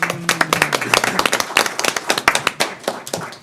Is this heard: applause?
yes